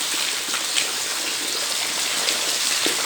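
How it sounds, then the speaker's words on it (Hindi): Heavy, continuous rain pouring down in cold morning weather, a steady dense hiss with scattered drop impacts, loud and even throughout with no voices. "लगातार बारिश, घनघोर बारिश हो रही है।"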